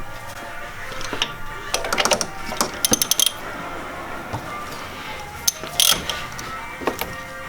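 A wrench works loose a 23 mm bolt on the power steering pump of an Infiniti G35, giving bursts of ratcheting clicks and metallic clatter spread through the clip, fairly close and moderately loud with brief quiet gaps.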